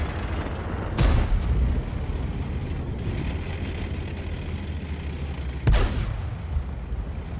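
Two heavy tank cannon shots or hits in World of Tanks, each a sharp booming blast with a rumbling tail, several seconds apart over a constant low engine drone.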